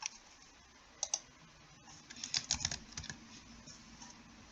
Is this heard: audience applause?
no